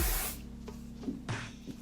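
Hair spray misted onto bangs: a loud hissing burst at the start, then a couple of shorter spritzes, close up.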